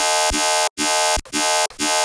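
A brostep synth bass with its filter cutoff and resonance automated by an oscillator grinds out loud, harsh, buzzy sustained notes, cut by short gaps into four rhythmic phrases with a throbbing wobble.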